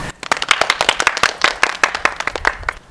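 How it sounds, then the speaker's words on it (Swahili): A small group claps hands at close range, distinct sharp claps in a quick uneven rhythm rather than a blended roar, each hit clearly separate over a quiet background. "Nipigie makofi leo."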